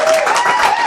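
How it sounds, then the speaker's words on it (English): A brief burst of dense hand clapping, a small group applauding together for one second, loud and steady, with a hint of voices mixed in. "Let's give ourselves a round of applause."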